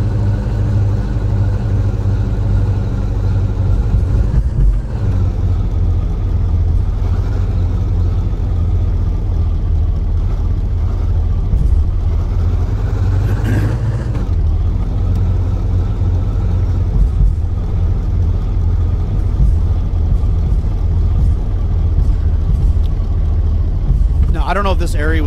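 A vehicle engine in the game Deadly Flare rumbles steadily and loud throughout as it drives, a continuous low drone with a few shifts in pitch, while someone talks over it.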